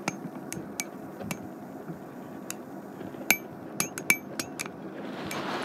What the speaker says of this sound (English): This is what an actual snap bracelet looks like on the inside. And that's what it sounds like.